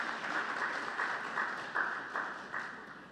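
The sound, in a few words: audience applause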